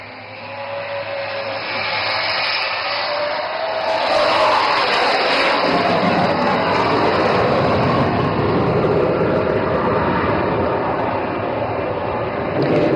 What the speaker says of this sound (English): Bhadoria with Flight Lieutenant Benipal, is now coming in for an overshoot.